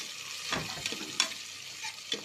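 Onions with green chillies and coriander fry in hot oil, sizzling softly and steadily, broken by a few sharp scrapes of a spoon stirring the pan, all close by.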